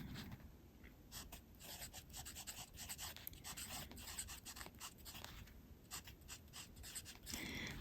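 A fountain pen with a fine nib scratches lines and scribbles across Cosmo Airlight paper, a faint, close, papery scratching in quick irregular strokes with no voices.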